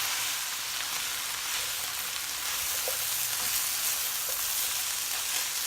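Green beans frying in a hot pan for a holiday side dish, a steady soft sizzle running throughout with a few faint scrapes and clinks of stirring, close and even, without any talk.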